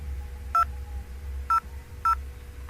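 Three short dial tones beep from an IP phone keypad, evenly spaced and clear over a low steady hum, with no talking.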